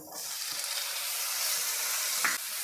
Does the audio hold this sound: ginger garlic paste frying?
yes